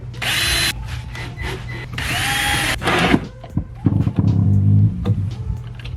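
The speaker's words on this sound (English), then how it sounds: "I'm gonna drill my holes through the top down" Close and loud, a power drill bores holes through a heavy-duty speaker bracket for a Porsche Cayenne. Two long high-pitched bursts are followed by rattling and lower grinding as the bit works through.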